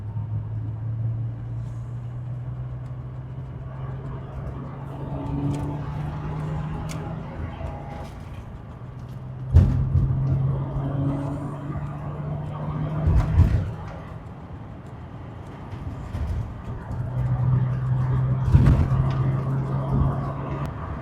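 A Toyota MK3 Supra cruising north on a highway at about 70 mph and 3,200 RPM gives a low, steady engine drone with passing road rumble and occasional louder bumps, fairly quiet overall.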